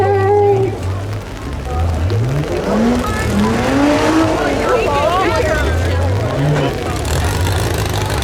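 Stock mini cars battle in a demolition derby in Owen Sound, Ontario, engines revving and whining at changing pitch across a loud, continuous mix of motors and crowd noise, with an announcer talking over it.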